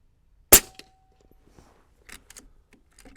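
A single sharp crack from an AirMaks Arms Katran .25 airgun on an outdoor range, close and loud, followed by faint scattered clicks and handling noises.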